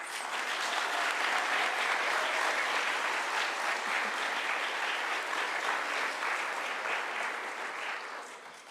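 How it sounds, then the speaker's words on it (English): Audience applause for sixth-grade speakers at a school speech contest, a dense, steady wash of clapping from a full room that holds for several seconds, then begins to thin and fade near the end. "Let's give them one final round of applause."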